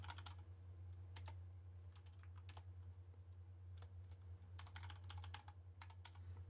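Someone types account login details on a computer keyboard in quick irregular bursts of close, crisp key clicks separated by short pauses, over a steady low hum.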